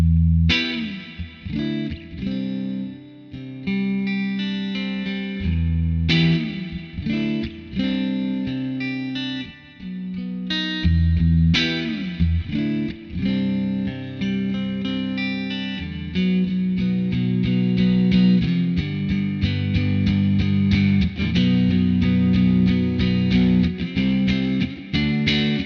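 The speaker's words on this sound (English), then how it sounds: "Really lovely spring reverb." Electric guitar running through a NUX Atlantic delay and reverb pedal set to spring reverb, playing chords and picked notes with long, splashy decaying tails and a steady loud level.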